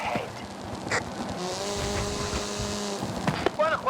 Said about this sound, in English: Hooligan Gymkhana 10 Ford Focus RS RX. 2-litre, turbocharged, front-mounted engine and all-wheel drive